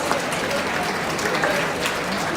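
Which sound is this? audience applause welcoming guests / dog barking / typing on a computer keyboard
audience applause welcoming guests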